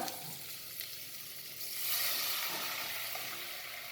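Garlic and chili frying in a pan for a restaurant-style lemon coriander soup give a steady, close sizzle that grows louder near the midpoint and then holds as a continuous hiss.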